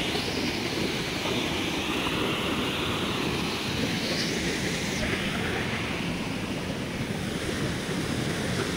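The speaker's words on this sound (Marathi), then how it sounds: "आता मी बोलणार नाही कारण की धबधब्याचा आवाज लई आहे." Randha Falls at Bhandardara roars as a waterfall in a loud, steady broadband rush of falling water that fills the whole clip without pause.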